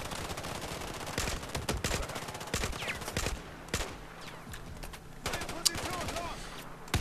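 Rapid bursts of mounted machine gun fire in the video game Battlefield 4, sharp repeated gunshots crackling throughout among other battle noise, loud and close.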